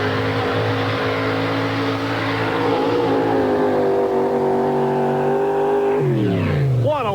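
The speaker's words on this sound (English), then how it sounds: "you can hear the RPMs coming up and the horsepower being transferred right to the track" Loud, close engine roar from a Chevrolet 4WD pulling truck at a 1992 truck pull in Chapel Hill, Tennessee, holding steady and then revving up sharply near the end.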